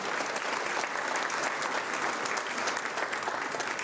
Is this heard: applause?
yes